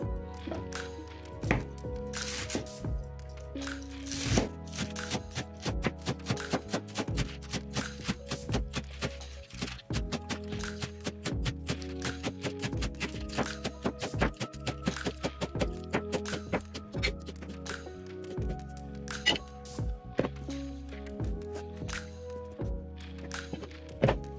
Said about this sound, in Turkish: ıspanakları doğramaya geçiyoruz